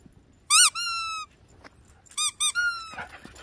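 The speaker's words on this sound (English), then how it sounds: "Oh, we got a squeaky toy." A dog's squeaky toy squeaks during play, one drawn-out squeak followed by a cluster of three short squeaks and a longer one, fairly close and loud, with no talking over them.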